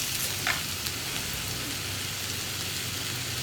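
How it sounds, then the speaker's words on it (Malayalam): Onions sautéing in a pan with curry leaves and salt, giving a continuous soft sizzle like light rain, steady and even throughout, with a faint stir near the start and no talking. "ഇനി നമുക്ക് സവോള നന്നായിട്ടൊന്ന് വഴറ്റിയെടുക്കണം"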